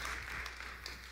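Audience applause fills a church: a brief, dense wash of many hands clapping together, steady and moderately loud throughout.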